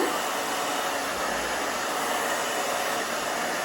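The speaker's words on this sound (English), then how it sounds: "Keep drying." A hair dryer blows loudly and steadily at close range while styling a short layered A-line haircut. The broadband rush is continuous and nobody talks over it.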